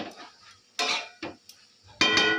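Soybean curry being sautéed in a pot brings sharp metallic clanks and scrapes of a spoon against the pot, coming in separate bursts with quiet gaps between them.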